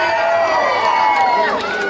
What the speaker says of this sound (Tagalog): Sabay-sabay po nating palakpakan, sigawan, hiyawan ang nag-isang Miss Ethel